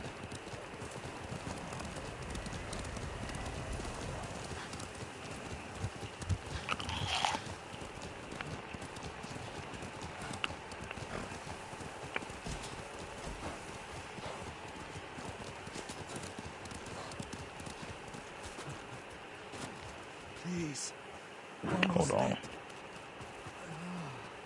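A horse galloping in the game Ghost of Tsushima, steady rhythmic hoofbeats running throughout at moderate volume, with a couple of louder snorts or whinnies and speech over the top.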